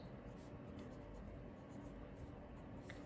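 Pen or marker scratching steadily across paper or a board while working through a maths integration problem with logarithms, a faint, continuous close-up writing sound with no talking.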